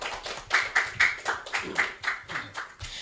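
Rhythmic hand clapping from a group of scouts, a series of sharp, evenly spaced claps at moderate volume, heard alone without talk.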